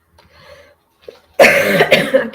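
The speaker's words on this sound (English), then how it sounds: "Sorry for the coughing." A person coughs: one loud, harsh burst with a quick second hack, close to the microphone, following a few soft throat sounds.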